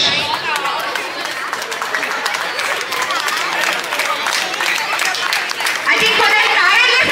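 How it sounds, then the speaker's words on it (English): A crowd claps and chatters at a temple wedding festival in Yapral, applause running steadily under lively talk and music-like tones, with sharper clapping rising near the end. "can we have a louder round of applause?"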